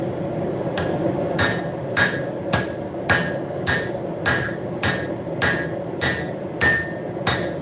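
A blacksmith's rounding hammer strikes hot metal at the forge, about twelve sharp, ringing blows in a steady, evenly spaced rhythm, loud and close over a constant low roar.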